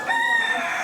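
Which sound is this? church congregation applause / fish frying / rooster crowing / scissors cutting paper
rooster crowing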